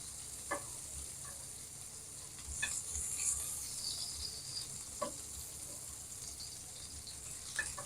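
Steak coated in peppercorns sears in a hot pan with a faint, steady sizzle, broken by a few light clinks and stirring scrapes, close but quiet, with no voices.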